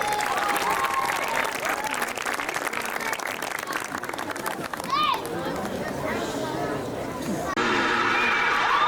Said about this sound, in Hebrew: קבלו אותם במחיאות כפיים סוערות